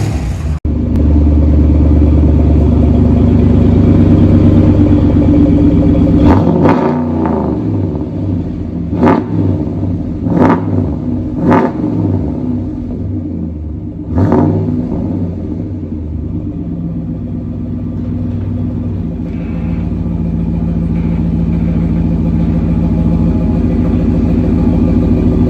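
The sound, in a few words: V8 pickup truck loud exhaust revving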